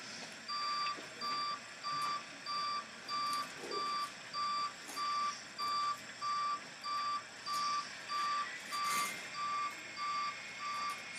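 A dump truck's reversing alarm beeps in a steady, evenly spaced series of loud tones, about a dozen pulses, over faint outdoor background noise.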